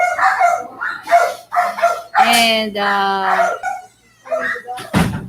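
Dogs bark and whimper at a house during a casual live stream, yelps and whines coming in short bursts between and under several people chatting nearby.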